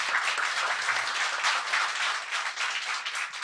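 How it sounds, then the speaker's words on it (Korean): Audience applause at a Korean talk show recording, a continuous wash of many hands clapping at moderate volume with no speech over it. "박수 부탁드립니다."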